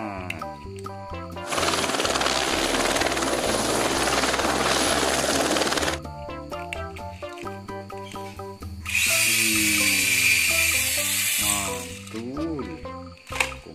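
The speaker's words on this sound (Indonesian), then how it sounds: "lihat ada helikopter warna merah teman-teman" Loud whirring of a red helicopter comes in two long bursts between stretches of bright, tuneful music.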